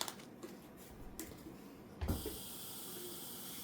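Water poured into seedling trays in a garden, a soft trickle that turns into a steady hissing pour after a low thump, quiet and close with no talking.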